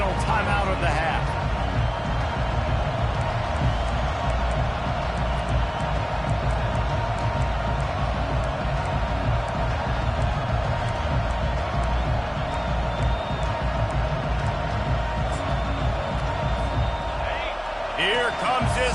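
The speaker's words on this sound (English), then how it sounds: "Here comes his home crowd as the defense tries to get off the field on 3rd down" Home crowd noise from a college football video game, a loud, steady roar of cheering and crowd hubbub filling the scene throughout, with a brief dip near the end.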